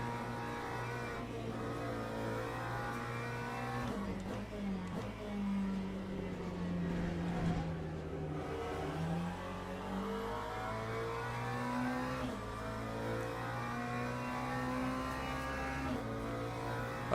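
Race car engine in the Le Mans Ultimate sim racing game, droning steadily throughout with rising and falling revs and gear changes, loud and close with no talk.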